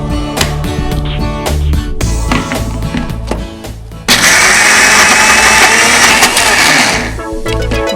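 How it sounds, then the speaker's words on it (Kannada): A mixer grinder whirs loudly, coarsely grinding soaked lentils with ginger and asafoetida. It runs in short pulses at first, then settles into a sustained, higher-pitched grind before winding down near the end. "ತರ್ತರಿಯಾಗಿ ರುಬ್ಕೋಬೇಕು."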